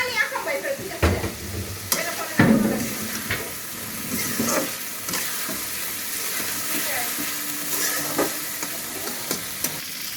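Baim eel fish poured into a hot pan in a village kitchen, a loud burst of splashing and clatter settling into a steady close sizzle and hiss as it cooks, with no talk.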